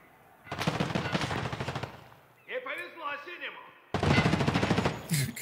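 Automatic gunfire in the video game Escape from Tarkov: Arena, two loud rapid bursts of shots close up, with a person speaking between them.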